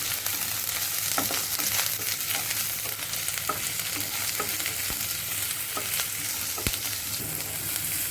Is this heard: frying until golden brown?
yes